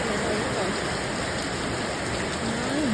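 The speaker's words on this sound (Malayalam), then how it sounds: "പെരിയ മഴയാണ് കേട്ടോ." Heavy rain falls in a steady, dense hiss that stays constant throughout, with a faint voice briefly audible beneath it.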